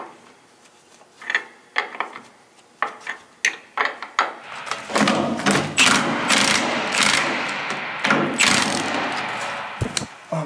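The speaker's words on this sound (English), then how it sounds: "I'm just going to tighten this up with the wrong size wrench" A fitting is tightened with the wrong-size wrench: sharp metallic clicks and knocks come in a loose rhythm up close, then a louder, continuous rattling scrape with repeated bursts takes over.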